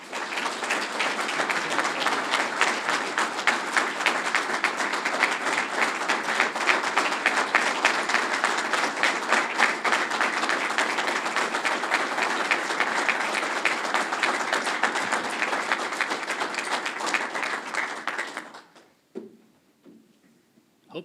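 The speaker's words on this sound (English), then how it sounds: "Hope you guys are clapping like that on game day" An Idaho State University audience greets new head football coach Cody Hawkins with long, vigorous applause, loud and even for nearly twenty seconds before dying away, followed by brief faint sounds.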